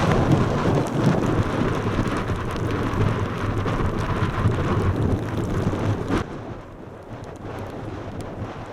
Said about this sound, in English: the rain's beating me, I'm afraid, at the moment